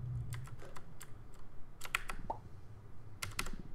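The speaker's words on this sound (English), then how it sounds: "You want to minimize keystrokes so that you're not slamming the keyboard" Computer keyboard keys clatter during play of the puzzle game Braid, coming in quick bursts of separate clicks with short gaps between them, fairly close and loud, and no one speaks.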